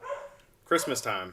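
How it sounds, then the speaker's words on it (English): Dogs bark during a live stream, a few short barks near the mic that overlap with and partly sit under a person talking over them. "Can you hear the dogs barking?"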